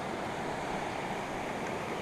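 A river rushes beside a campsite in Idaho, a steady broadband roar of flowing water that holds even and close throughout, with no voices.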